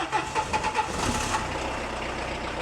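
A 1990s French car, a Renault or Peugeot, cranks with a few quick starter whirs and then catches into a steady, close engine idle.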